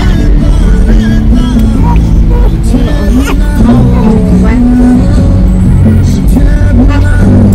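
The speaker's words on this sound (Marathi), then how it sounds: "आणि ही बघा ही पुण्यातील ट्रॅफिक" Dense road traffic in Pune, in the Chandannagar–Kharadi area, roars loudly and continuously with engines and honking horns close by, and voices talk over the din.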